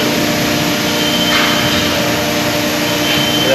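Vacuum bonding machine laminating fiberglass and Azdel RV sidewalls in a factory, a loud, steady roaring whoosh like a jet engine with faint hums and brief swells of hiss.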